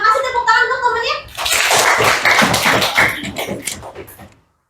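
A school class claps for a classmate after a teacher's prompt, with a voice speaking first and then a burst of lively, close, fairly loud applause that fades out.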